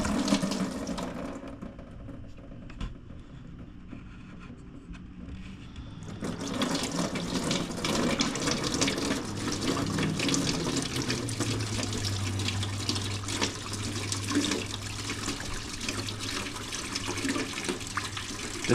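Engine coolant drains out of a BMW E46 M3 into a bucket below, a steady running splash that begins faint, grows fuller after a few seconds and then keeps pouring without a break.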